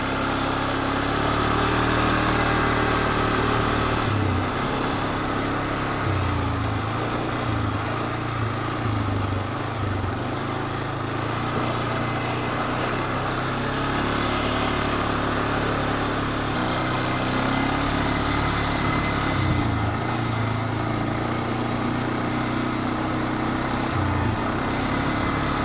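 An ATV four-wheeler riding up a snow-packed mountain road in the Uintas, Utah: a steady, loud engine drone carries on through the whole stretch, with slight shifts in pitch.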